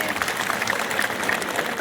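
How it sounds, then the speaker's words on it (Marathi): Applause and crowd noise at an election rally in Sangamner, greeting the Sangamner Seva Samiti candidates, a dense steady clatter of clapping throughout. "आपण सगळ्यांसाठी जोरदार टाळ्या होऊन जाऊ द्या"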